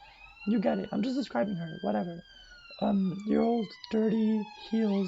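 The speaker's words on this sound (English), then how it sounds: "sorry for the siren" A passing emergency siren wails with steady rising and falling tones through the background, heard beneath someone talking continuously up close.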